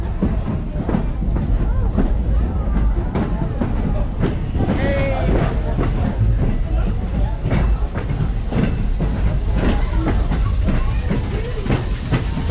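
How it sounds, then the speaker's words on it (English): Strasburg Railroad passenger train riding back toward the station, a continuous loud rumble with rhythmic clickety-clack of wheels, wind buffeting the microphone and some voices in the car. "now we're headed back to the train station the opposite direction"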